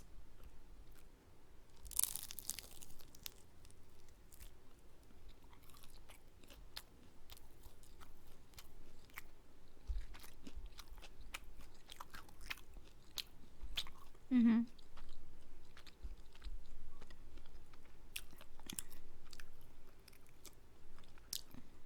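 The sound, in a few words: biting and chewing kimbap with pork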